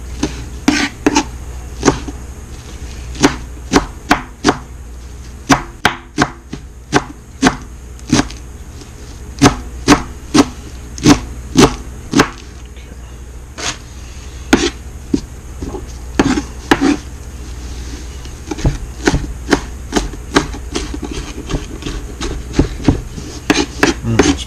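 A knife cuts through tightly rolled cilantro on a cutting board, giving a long series of sharp, close chopping taps in uneven bursts, some rapid and some spaced apart.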